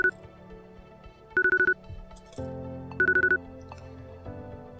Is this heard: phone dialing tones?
yes